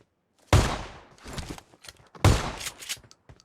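Two loud, booming shotgun blasts in a video game, each with a sharp attack and a long decaying tail, the second about two seconds after the first, with scattered quieter impacts in between.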